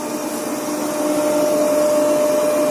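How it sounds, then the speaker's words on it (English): A synchronous motor runs during a lab test, giving a steady, loud, continuous whirring drone with a constant tonal hum that holds level throughout and has no speech over it. "So you can see now our motor is running."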